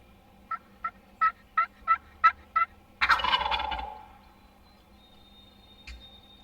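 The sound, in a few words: wild Tennessee turkey gobbling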